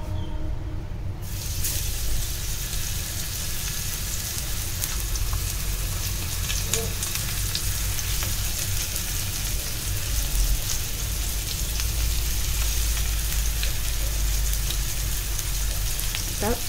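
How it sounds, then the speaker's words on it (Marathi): Semolina-coated rawas fish fries in hot oil, giving a dense, continuous crackling sizzle that stays loud and close from start to finish with no talking. "फिश टाकताना मी गॅस बारीक केला होता, आता मोठा करायचा."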